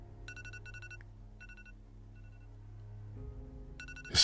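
A bedside alarm beeps in short, repeated bursts, the pulses falling in a steady rhythm with brief gaps, over a low hum before a louder sound at the end.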